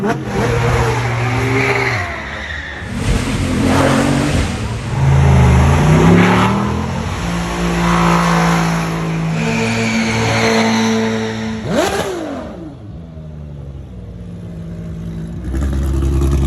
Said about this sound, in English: That sounds like the GT Black Series